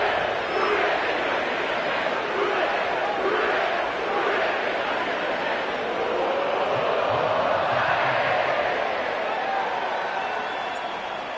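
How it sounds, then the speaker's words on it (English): Sellout stadium crowd at Paycor Stadium in Cincinnati inside an EA Sports football game, a steady broad roar of massed voices with swelling cheers that runs unbroken throughout. "sellout crowd has arrived at Paycor Stadium in Cincinnati"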